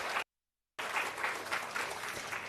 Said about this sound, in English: please join me by a show of hands to give a round of applause to the Ministry of Foreign Affairs